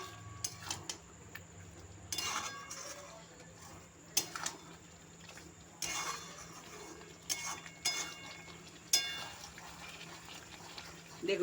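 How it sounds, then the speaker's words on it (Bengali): Onions for chicken korma are stirred in a pan, giving soft intermittent scraping and clinking of a utensil against the pan at close range. "পেঁয়াজটা দিয়ে এবার নাড়াচাড়া করে দিচ্ছি আমি।"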